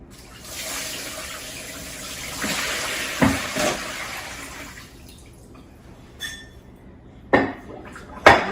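Water pours out of a pot of soaked cucumbers in a steady rushing stream for several seconds as they are drained, followed by a few sharp metallic clanks of the pot.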